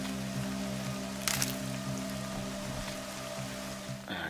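Steady rain hisses through the Horizon Zero Dawn game world, a broad even wash under low, sustained music tones, with a brief brighter spatter partway through.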